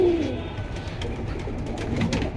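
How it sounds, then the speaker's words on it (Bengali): Pigeons sold at a Bangladeshi pigeon market coo softly and repeatedly nearby, low rounded calls over a steady murmur of background noise. "এই যে দর্শক দেখেন দ্বিতীয়বার মতো আবারও মুস্তির কবুতর"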